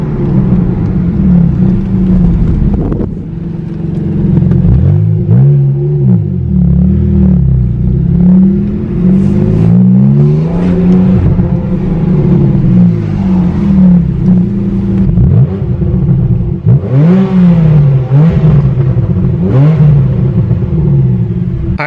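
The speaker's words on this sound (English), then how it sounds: "The exhaust is dope. Thing is so loud" A Porsche 911 991 Carrera 2S fitted with a Sharkwerks race exhaust revs repeatedly, its loud, deep note rising and falling in a series of throttle blips, with no voices.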